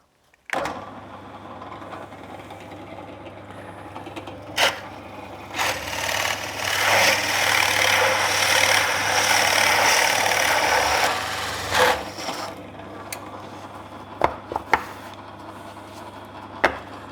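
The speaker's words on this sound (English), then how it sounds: "the next hole I want to drill" A power drill whirs into wood for several seconds, grinding steadily, with knocks and clatter before and after the bore, while building a router table.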